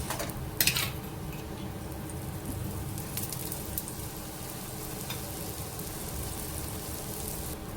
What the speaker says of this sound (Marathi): वरून पुन्हा थोडंसं तेल लावते आणि दुसऱ्या साईडनी याला व्यवस्थित असंच भाजून घेते.